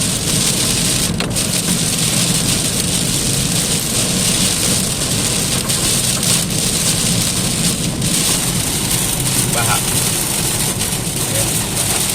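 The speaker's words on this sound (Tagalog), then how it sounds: "yan malakas na ang ulan" Heavy rain pours down steadily and loudly on a street in Dubai throughout, a dense continuous roar with occasional faint voices underneath.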